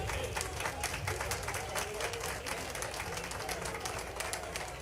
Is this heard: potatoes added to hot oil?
no